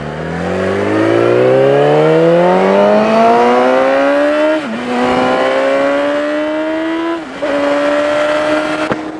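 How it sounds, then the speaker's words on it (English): A car engine climbs steadily in pitch as it accelerates, loud and close, with two brief dips as it shifts or jolts before pulling on again; no voices. "that's a car, and a pothole, that's a truck"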